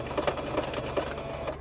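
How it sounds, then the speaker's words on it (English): Sewing machine double stitching at the start of a seam on a two-piece surgical scrub cap, a close, soft rhythmic whir with light repeated ticks, no voices. "So at this point I will do a double stitch at the beginning to lock the stitch in place."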